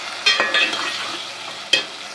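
Garlic ginger paste frying in a pan for a chicken and bitter gourd curry, a close, moderate sizzle broken by a few sharp spoon taps and scraping strokes.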